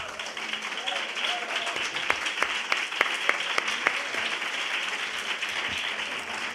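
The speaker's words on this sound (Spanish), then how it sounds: "No he acabado de presentarte, pero ya te aplauden." An audience applauds a speaker at a coeducation conference, a steady sustained wash of clapping from a crowd with a few sharper individual claps standing out in the middle, fairly distant and even throughout.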